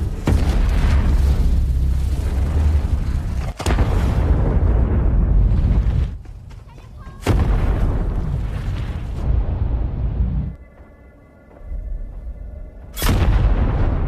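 Landmine explosions go off in a forest in the film First They Killed My Father: heavy booming blasts with deep rumbling roars, broken by several sudden sharp detonations and brief quieter stretches.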